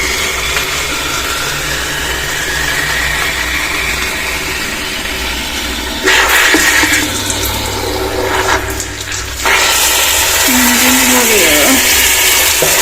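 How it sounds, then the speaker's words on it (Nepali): Water runs steadily from a tap into a jug in a home kitchen, a continuous loud rushing flow that shifts in tone partway through as the jug fills. "अब यहाँनिर म पानी थाप्छु।"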